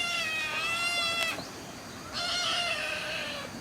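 A cat gives two drawn-out meows in close succession, clear and near, with a short pause between them and no talk.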